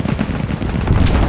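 Machine gun fire rattles through an Arma 3 Prairie Fire Vietnam-era battle. Dense, loud bursts of shots run back to back the whole time, with rumbling booms mixed in.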